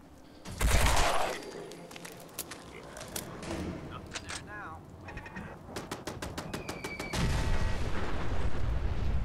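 Gunfire in a VR video game: sharp bursts of shots, some rapid and machine-gun-like, crack repeatedly over game ambience, with a voice speaking between them.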